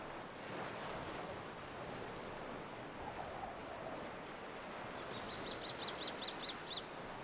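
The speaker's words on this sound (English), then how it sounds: "the young are already chattering in many nests" Young storks chatter in their nests on a breezy Spanish spring coast, a quick series of sharp clattering calls late on, faint over a steady wash of wind and surf.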